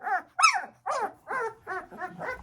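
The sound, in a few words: large agitated puppies barking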